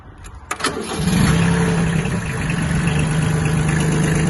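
A small Kubota B1502 mini tractor diesel engine cranks with a few clicks, then catches and settles into a steady, loud chugging idle nearby.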